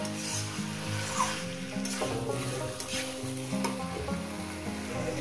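Chicken curry meat frying in a pan, a steady loud sizzle running throughout with stirring and scraping, and no voices.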